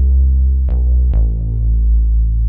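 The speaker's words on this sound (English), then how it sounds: "what I ended up choosing was this bootsy bass sound" Bootsy bass synth sound in beat production, with thumping low end and a little grit: a loud, deep sustained bass note with two sharp plucky attacks that sweep down quickly, held alone without talk.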